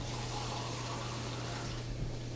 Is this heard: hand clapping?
no